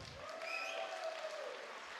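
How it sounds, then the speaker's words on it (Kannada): A crowd at a Kodagu and Dakshina Kannada Gowda community get-together in Bengaluru claps for a dance troupe, soft and steady, with a thin whistle rising above it. "ಅಮ್ಮಾಜಿರ ಧೃತಿರಾಜ್ ಪೊನ್ನಪ್ಪ ತಂಡದವರಿಗೆ ಬರಲಿ ಜೋರಾದ ಚಪ್ಪಾಳೆ."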